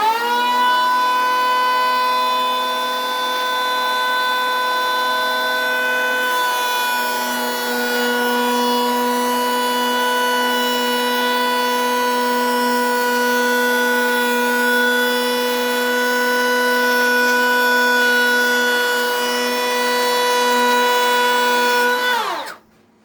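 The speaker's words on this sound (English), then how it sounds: "I'm going to come start planing in here." A DeWALT DCP580 cordless hand planer runs on wood with a loud, sustained, high-pitched motor whine that deepens slightly as the cut begins, then winds down abruptly at the end.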